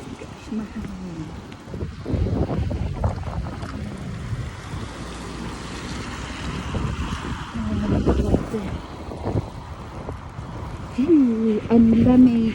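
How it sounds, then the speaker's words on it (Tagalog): Strong gusty wind buffets the microphone outdoors during a snowfall in Burnaby, Canada, a steady broadband roar that swells louder near the end, with someone talking over it at times. "Oh my gosh, mahangin."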